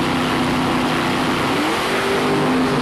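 Drag race cars, carbureted against turbocharged, run the quarter mile at Great Lakes Dragway in Union Grove, Wisconsin, with a loud, sustained engine roar whose pitch holds and then climbs steadily as they accelerate, with no talk.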